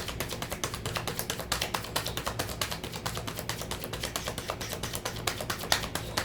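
Rapid, steady riffling and tapping of tarot cards being shuffled, close and fairly quiet, with no talking.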